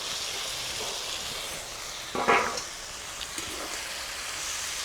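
Squeezed drumstick flowers drop into a pan of frying potato and eggplant, making a soft continuous sizzle with one brief clattering stir near the middle.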